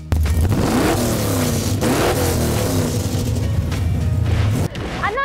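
Street rod engine at a cruise in Hope, Kansas, firing up and revving hard in several loud, rising bursts close by, then dropping abruptly near the end.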